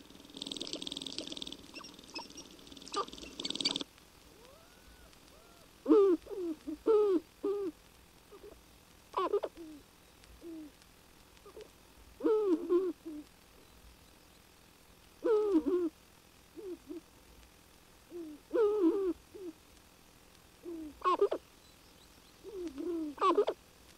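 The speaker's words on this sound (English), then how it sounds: "Gobbling, clucking, and quill rattling of the sharp-tailed grouse on their dancing grounds among the willows and birches" Sharp-tailed grouse on a dancing ground among willows and birches give repeated bursts of clucking and gobbling calls at regular intervals, with faint dry rattling between them, fairly close in a quiet outdoor setting.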